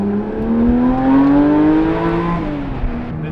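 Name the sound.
car with new exhaust revving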